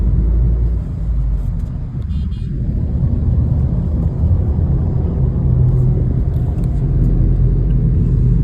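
A Tata Nexon Pure Plus 2025 cruising along a highway between Lucknow and Varanasi gives a steady, loud road rumble and engine drone that holds evenly throughout, with no voices.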